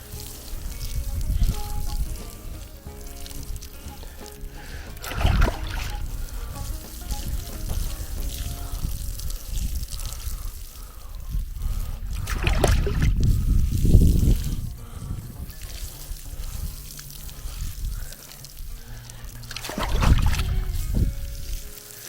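Water is poured over newly planted garlic in a Jamaican garden bed, making a soft, continuous splashing and trickling with a few heavier gushes throughout.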